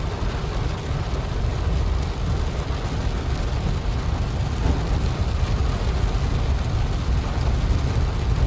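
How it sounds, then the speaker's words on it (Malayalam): Heavy rain on a car driving along the NH66 highway in Kerala, a dense, steady roar of downpour and road noise that stays loud and unbroken throughout, with no talking. "ഭയങ്കര മഴ"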